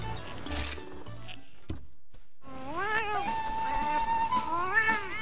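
Cartoonish cats meow in Monster Hunter Rise Sunbreak while cooking a meal, a run of clear, close mews with bright rising tones over a busy game music bed, broken by a brief silent gap.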